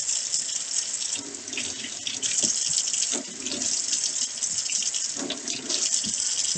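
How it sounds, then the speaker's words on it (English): Potatoes being washed under a running kitchen tap, a steady rushing stream of water splashing into a sink, with intermittent louder gushes and drips as the potatoes are turned and rubbed under the flow. "first thing, you want to wash all your potatoes"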